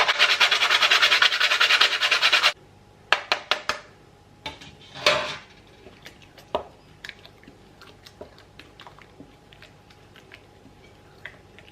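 Fresh whole nutmeg rubbed against a grater over a cake-filling mixture, a dense burst of raspy scraping for about two seconds, then scattered light clinks and small taps close by, with no talking.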